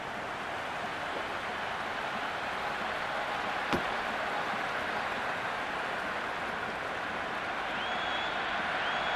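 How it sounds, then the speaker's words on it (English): Crowd ambience in a cricket stadium from the Cricket 26 video game, Pakistan versus India, forms a dense, continuous roar like distant applause, broken once by a single sharp crack. "There's an almost tangible fervour throughout the crowd at the moment."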